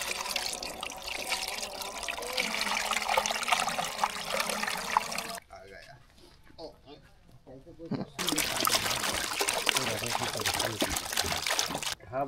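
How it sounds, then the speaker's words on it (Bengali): Fresh date palm juice, collected from the tree on a winter night, pours into a container with a rushing, trickling flow that breaks off briefly midway before resuming; people talk nearby over the liquid. "খেজুরের রস ঢালা হচ্ছে এটার মধ্যে।"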